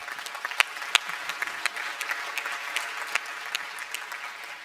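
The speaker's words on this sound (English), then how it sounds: "Please give her a round of applause" Applause from a conference audience for Judge Xue Hanqing, Vice President of the International Court of Justice, as she is introduced at a panel; continuous clapping with sharp individual claps standing out, steady and fairly close.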